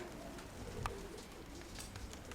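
Soft pigeon coos and faint bird calls at a dovecote over a low, steady outdoor rumble, with a brief sharper chirp near the middle.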